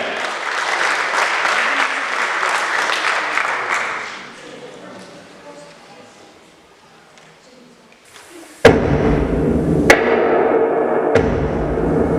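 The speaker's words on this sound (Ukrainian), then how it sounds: "Зустрічайте і гучно аплодуйте!" An audience at a Ukrainian folk-arts concert gives dense, loud applause that fades after about four seconds into quiet murmur, then music starts abruptly with heavy rhythmic hits.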